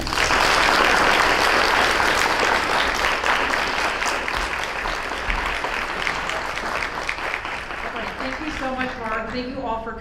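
Audience applause fills a hall at a university Greenfest keynote, dense steady clapping from a large crowd that holds loud for most of the stretch, then thins toward the end as a voice begins speaking over it.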